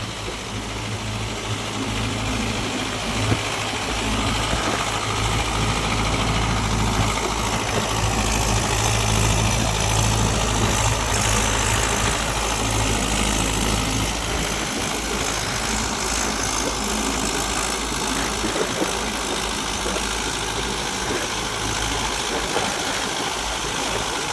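A Mahindra Yuvo Tech Plus 585 DI special edition tractor runs at about 1800 rpm, driving a 72-blade Shaktiman rotavator in a field, making a loud, continuous low diesel drone that holds steady throughout, with no talking.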